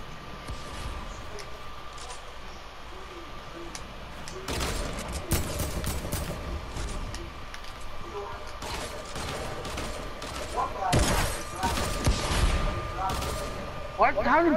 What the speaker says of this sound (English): The accuracy is so bad with this gun.